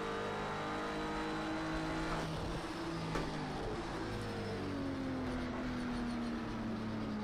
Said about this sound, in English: Fast approaching car.